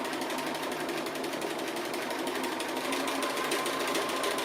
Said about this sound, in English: So this is a little bit like drawing with your sewing machine.